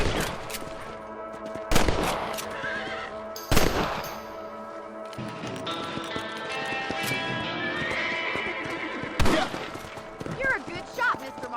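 Rifle shots ring out in Red Dead Redemption as rabbits are hunted, three sharp loud cracks spaced a few seconds apart over horse neighing, hoofbeats and ambient game sound.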